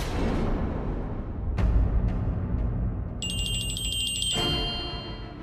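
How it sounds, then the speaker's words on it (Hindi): A telephone rings in a Hindi TV drama scene, a high electronic trill starting partway through and cutting off, heard over a swelling music background. "अंकिता का फोन है"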